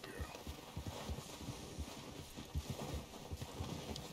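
Horse hooves clip-clop at a steady walking pace in Red Dead Redemption 2, the dull thuds close and moderately loud over a light wind-like hiss, with no voices.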